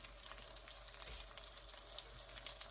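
A birria quesa taco sizzles steadily on a hot griddle as cheese melts onto it, giving a continuous close crackle and hiss with small pops scattered throughout.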